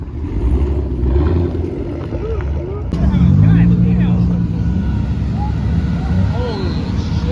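Car engines rumble and rev at a large outdoor car meet, a loud low drone that swells around the three-second mark, with crowd chatter and shouting over it.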